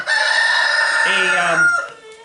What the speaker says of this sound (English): the roosters are distracting me as they are distracting you